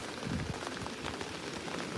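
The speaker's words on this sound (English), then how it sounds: "torrential rain" Torrential rain pouring down on the shore at Hayling Island during a fishing session, a dense, continuous patter and hiss of drops hitting surfaces, fairly close, with no voices.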